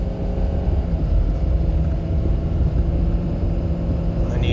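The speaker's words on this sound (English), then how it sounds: "We're gonna slowly, steadily accel up to 50" A car accelerates slowly and steadily toward 50 miles an hour, heard as an even, low engine and road rumble from inside the cabin, with no talking.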